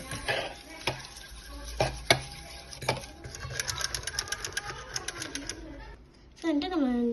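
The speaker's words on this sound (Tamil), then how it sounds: "அதை எடுத்து நல்லா முட்டையை பீட் பண்ணிக்கலாம்" Eggs are whisked in a bowl for a bread omelette: a rapid, rhythmic clatter of utensil against bowl runs in quick bursts for several seconds, then stops as a voice begins talking.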